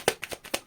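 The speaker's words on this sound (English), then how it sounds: "Last shuffle." Tarot cards being shuffled by hand, a few quick soft riffling flicks in rapid succession, close and brief.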